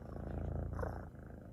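A cat purrs steadily up close indoors, a low rhythmic rumble continuing without pause.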